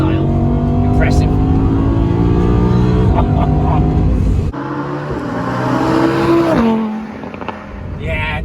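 All-wheel drive supercar accelerating hard, its engine rising in pitch through the gears with a loud, close roar, a sharp shift midway, then settling, under voices in the cabin.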